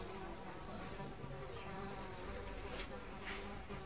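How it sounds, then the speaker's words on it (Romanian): A housefly buzzes steadily indoors near a garden, a continuous close drone that never breaks over the whole span. "A intrat o muscă aici."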